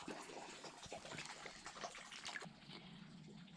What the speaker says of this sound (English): Let's fill this with water and see what it tells me.